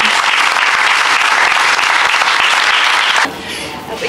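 Loud, dense applause from an indoor audience honouring a local basketball club's season at a village gathering, sustained for about three seconds and then cutting off abruptly to quiet room murmur.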